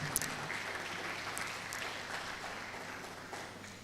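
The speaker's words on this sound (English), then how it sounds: "Please give me a round of applause." Crowd applause at the BUMARC 2026 gathering, a steady wash of clapping from an audience that holds evenly for a few seconds with no talk over it.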